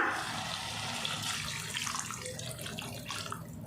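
Water runs and splashes steadily into a cooking pot of cassava for a few seconds, a close, continuous pouring sound that tapers toward the end.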